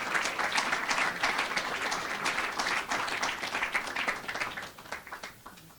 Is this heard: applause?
yes